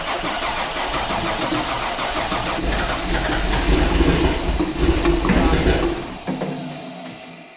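A Chevrolet C5 Corvette with a swapped-in BPE408 engine cranks and labors to fire with the fuel pressure set too high, a loud, continuous mechanical churn that swells midway and then cuts off near the end.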